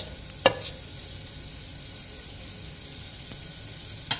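Whole spices (cardamom, cloves, cinnamon) sizzle steadily in hot oil in a pan for mutton paya soup, a close, even frying hiss broken by a couple of brief clinks of a spoon or lid.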